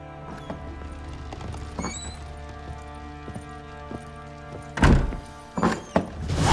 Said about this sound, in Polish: I tak muszę otworzyć drzwi.